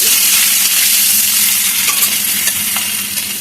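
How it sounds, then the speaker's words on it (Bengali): Loud, steady sizzling of fish frying in a kadai (wok), with a few light scraping taps as it is stirred; no voices. "মাছটা দিয়ে এরকম যদি নাড়াচাড়া করা যায় আর ওই মাছ কড়াইতে লাগবে না"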